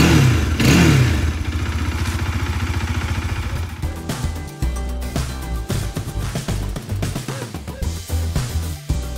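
A Bajaj Dominar motorcycle engine, freshly serviced with an oil change, idles with a steady throb, then revs up and down in repeated throttle blips, loud and close with no talk.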